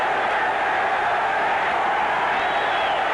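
Steady roar of an enthusiastic crowd at a 1984 USA versus Cuba amateur boxing dual meet at the Lawlor Special Events Center in Reno, Nevada, a dense continuous wash of voices.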